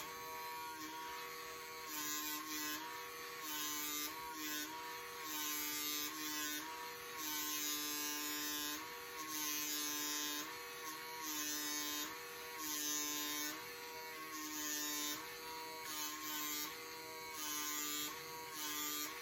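A small handheld skincare vacuum device hums with a steady, faint electric buzz that pulses rhythmically as it is moved over the face.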